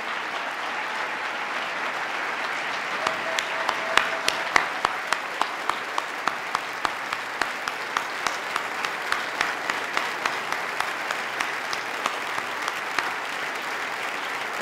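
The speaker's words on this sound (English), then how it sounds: "let's give them a round of applause" A large audience at the 2018 New York State of the State Address applauds police and first responders, sustained dense clapping with a few louder individual claps standing out.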